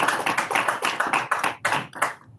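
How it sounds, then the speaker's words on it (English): A small seminar audience claps for the speaker at the close of a privacy seminar: a handful of hands, with individual claps clearly separated and fairly close, over about two seconds before stopping abruptly. "maybe we can end with one last round of applause"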